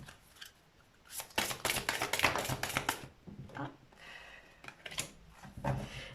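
A deck of oracle cards is riffled and shuffled in quick papery bursts, then a card is drawn, close and crisp with brief pauses between the flurries.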